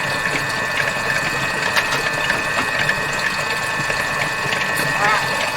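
A Thermomix mixes Japanese cheesecake batter with corn flour in a steady, loud motor whir and a churning hum, continuous and close, with no talking.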